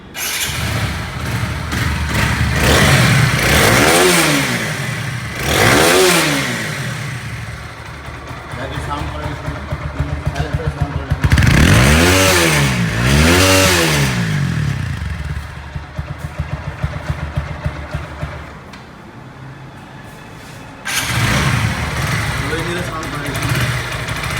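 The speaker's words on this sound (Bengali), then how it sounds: "চলুন এবার বাইকের সাউন্ড কোয়ালিটি দেখে নিই" A TVS Apache 4V motorcycle engine revs up and down several times in rising and falling bursts, close and loud, with idling between revs.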